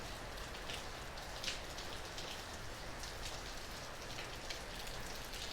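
Steady downpour of heavy, gusty Northern California rain, a thick unbroken wash of drops drumming on nearby surfaces, with a few louder splatters standing out and no talking.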